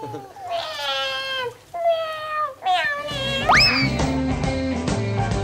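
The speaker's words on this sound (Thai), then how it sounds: "แมวขี้บ่นเหมือนกันเนาะขี้บ่น" A cat at a cat spa meows and complains in several drawn-out, rising cries, close and clear, with background noise and a short chirpy squeal near the end.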